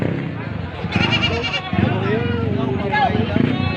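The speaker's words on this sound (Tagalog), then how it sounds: "Kuha ng mga kambing, mga ibang hayop." Goats bleat repeatedly at a busy livestock market, with several wavering calls rising over a constant murmur of nearby people talking and crowd noise.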